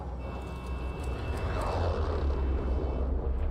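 Airplane engine in the video game Warzone, a steady low droning roar with a faint high whine, continuous and fairly loud, swelling slightly midway with no voices.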